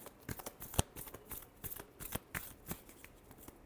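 Tarot cards being shuffled by hand in quick, crisp riffling bursts and flicks, close and dry, with no talk.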